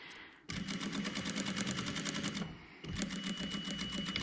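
Sewing machine stitching and back tacking a 5mm seam on a jacket collar, a steady close rapid mechanical rattle that pauses briefly at the reverse, then resumes just as fast.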